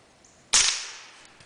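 A single sharp suppressed 9mm shot fired through a Liberty Mystic suppressor, a crisp crack with a short trailing decay, alone and close.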